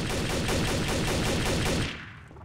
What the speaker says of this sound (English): Why is this guy shooting us?